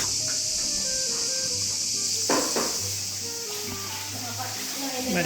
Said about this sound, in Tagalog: Ang ingay ng mga kuliglig.